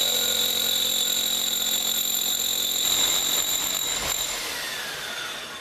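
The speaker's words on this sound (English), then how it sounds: "we're going to use this rotary hammer drill with a coring bit to give us a nice clean hole." A rotary hammer drill fitted with a coring bit cuts into a stucco wall, giving a steady, loud whining drone with a high tonal ring that tapers and fades toward the end.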